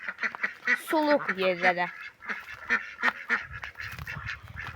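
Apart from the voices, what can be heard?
ducks quacking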